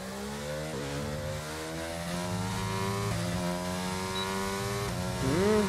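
Formula 1 cars from the F1 22 video game, including Mercedes-powered McLaren and Alpine machines, scream through repeated upshifts on a straight, the engine note climbing and dropping in steady stepped pulls, loud and continuous with no talk.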